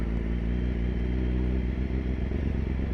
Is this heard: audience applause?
no